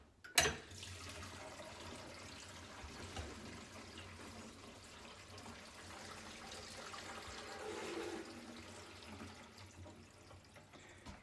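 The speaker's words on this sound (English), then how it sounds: "a really satisfying rushing sound of water coming down here when I pull the plug" A click as the plug is pulled, then water rushing and gurgling steadily down a sink drain, faint and continuous, swelling briefly before easing off.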